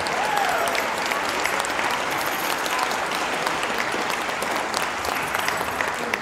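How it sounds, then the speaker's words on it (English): Sustained audience applause fills a jazz winter concert hall after a school band marathon, a dense, steady wash of clapping hands that holds evenly throughout with no voices. "one more big round of applause overall for Jazz Ensemble, Jazz Lab, Middle School Jazz Band, and the Jazz Combos"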